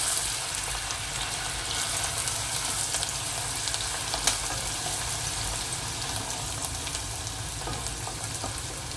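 Onion sautéing in a pan for a potato chicken curry, giving a steady, close sizzle and frying hiss throughout with faint stirring scrapes and no talking.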